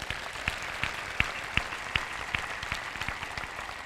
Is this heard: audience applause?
yes